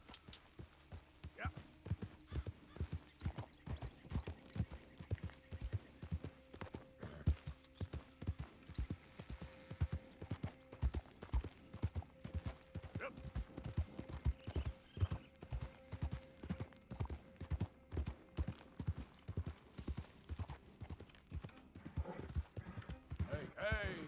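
Horse hooves clip-clop in a steady rhythmic walk in the video game Red Dead Redemption 2, close and continuous for the whole stretch, with faint game ambience beneath.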